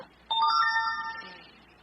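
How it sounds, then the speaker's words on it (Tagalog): A mobile phone chimes a short text-message notification, a bright sustained ding that rings out and fades over about a second in an otherwise quiet room. "Oh, may text message ko."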